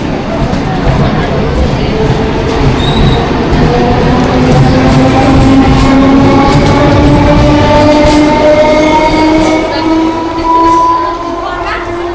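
A train rolls past close by, loud and steady rumbling with rising whining tones from the wheels, while people talk in the background.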